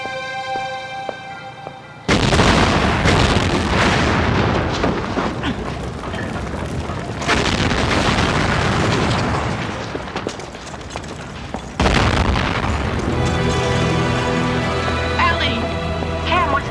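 A sudden deep blast erupts and rolls into a long, heavy roar, followed later by a second powerful surge of rumbling noise.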